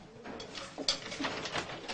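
Racing pigeons coo softly in a few short, low calls, faint against a light background hiss.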